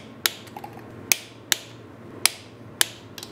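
Sharp ratchet clicks sound as the three screws of a BMW R 1150 clutch slave cylinder are tightened, five or six crisp, separate ticks at uneven intervals, close and alone.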